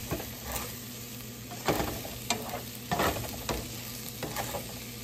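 Cornmeal-coated okra fries in oil in a pan, giving a steady close sizzle broken by occasional clinks and scrapes of stirring.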